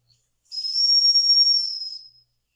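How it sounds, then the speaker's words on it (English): A single high, steady whistle blast from an 1880s Weeden No. 1 upright steam engine sounds for about a second and a half with a slight hiss, starting abruptly and tapering off, alone in silence. "Let's try the whistle again."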